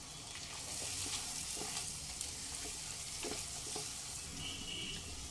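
Spices including black pepper and Kashmiri red chili powder stirred into frying oil with coriander powder, a continuous bright sizzle with soft scraping stirs throughout, close and steady.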